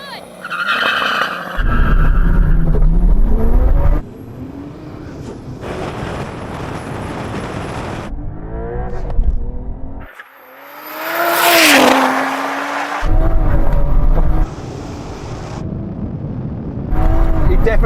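Drag race between a tuned 700-horsepower Toyota Supra and a Porsche 911 Carrera T: loud engines roar hard off the line, with rising revs, gear changes and a sharp tire-squeal burst, fading into quieter gaps.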